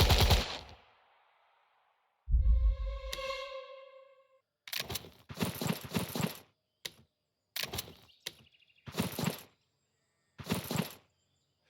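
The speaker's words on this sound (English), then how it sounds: "gets cut down by German light machine gun fire" Bursts of German light machine gun fire from a Valor & Victory Kursk battle game, several short rattling volleys separated by pauses, loud and close, preceded by a booming blast and a ringing tone.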